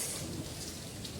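Steady rain hisses and patters on a surface, a brief, even wash of sound with no voices.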